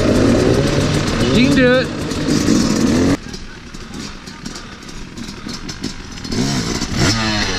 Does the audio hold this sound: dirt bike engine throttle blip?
yes